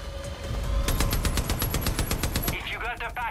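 Rapid automatic gunfire bursts in the shooter game Far Cry New Dawn, a loud rattling string of shots that ends in a few sharper cracks near the end, with no voices.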